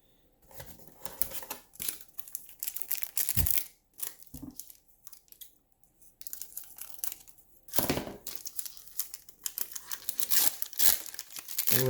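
Foil Tim Hortons hockey card packs being torn open and crinkled, repeated sharp ripping and crackling bursts with short quiet gaps between, close and alone.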